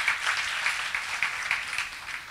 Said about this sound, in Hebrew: ומגיע להם מחיאות כפיים